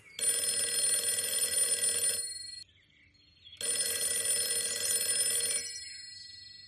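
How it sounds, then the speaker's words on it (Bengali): Two long bursts of a ringing telephone bell, each about two seconds, are separated by a brief silence. The bell is bright and loud, used as a sound effect in a Bengali suspense audio drama. "পরাশর উত্তর দেবার আগেই ফোনটা বেজে উঠল"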